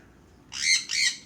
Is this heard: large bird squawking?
yes